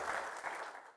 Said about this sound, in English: Please, let's appreciate Dr. Leo one more time with a round of applause.